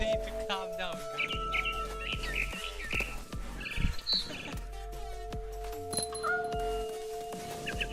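Scared barn swallow chirping in the video game What Remains of Edith Finch, a series of short high tweets over a busy game soundscape with steady tones and scattered effects.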